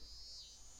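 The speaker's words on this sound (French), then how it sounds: "Putain de saloperie de cigale de merde" A cicada drones steadily in the summer setting of the visual novel game Kare wa Kanojo, a thin, constant high buzz at moderate level with nothing else over it.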